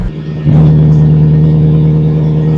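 Toyota GR GT engine idling in track mode, a steady loud low drone that swells as it catches, then holds an even, throbbing hum, heard alone.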